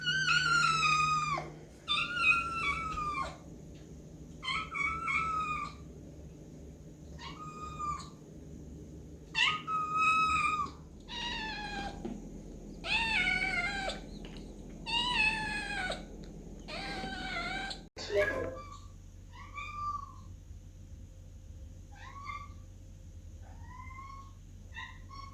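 Adopted feral kitten meowing and grumbling indoors, a long series of close, loud, insistent meows in uneven bursts separated by short pauses, with lower grumbling tones and quiet household background noise.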